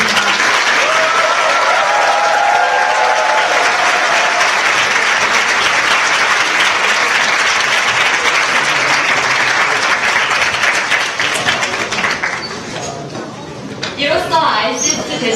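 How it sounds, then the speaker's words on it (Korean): A large audience in a university lecture hall at KAIST applauds after a public lecture by Ahn Cheol-soo, with loud, dense clapping that holds steady for most of the stretch before thinning near the end. "들려주신 안철수 여사님께 큰 박수 부탁드립니다."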